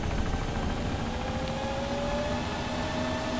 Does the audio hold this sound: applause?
no